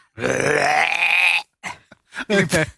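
A home robot, Amazon's Astro, plays a long, loud synthetic burp lasting over a second, followed by a few short grunting bursts close to the microphone.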